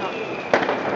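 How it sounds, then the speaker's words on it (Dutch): New Year's Eve fireworks in Nijmegen crackle and boom through a steady hiss of distant bangs, with one loud close burst midway that is followed by lingering crackle. "Nou zijn ze weer nieuw vuurwerk aan het pakken, let maar op."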